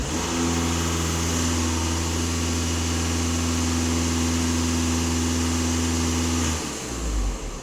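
A warmed-up diesel car with an EGR fault (code P0403) idles steadily with a low, even hum and rumble, then cuts off near the end, leaving a brief quieter rumble.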